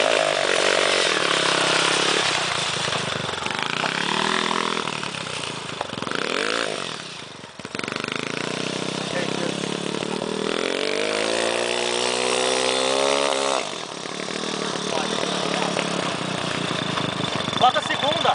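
A cartcross buggy engine revs hard and steadily for most of the stretch, with rising and falling pitch sweeps as the throttle opens and eases, a brief dip midway, and voices talking over it.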